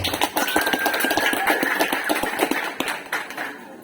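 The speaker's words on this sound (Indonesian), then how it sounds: "Tepuk tangan untuk teman-teman." An audience at the opening of an Ansor cadre training session in Bawean breaks into dense, fairly loud clapping that thins out slightly toward the end.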